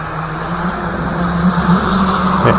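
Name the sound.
Thunder Tiger OBS jr RC boat motor running at quarter throttle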